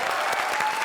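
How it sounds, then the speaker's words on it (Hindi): An audience at a live stage comedy show claps in a short, dense burst of applause, many hands together and fairly loud, with no pause. "अरे ताली बजाओ ताली"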